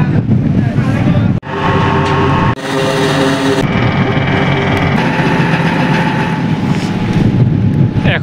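Passenger launch ferry on a 1.5-hour crossing to Ilisha launch ghat in Bhola, with a steady engine drone and loud wind buffeting the microphone, briefly dropping out twice before resuming.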